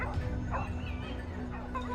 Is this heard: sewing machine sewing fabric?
no